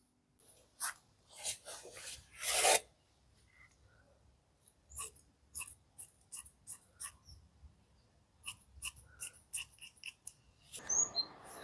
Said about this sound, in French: je vais couper le surplus qu'il y a autour